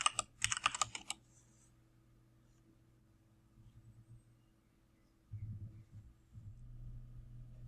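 Quick burst of computer keyboard typing in the first second, close and crisp, followed by a quiet low hum with faint soft clicks.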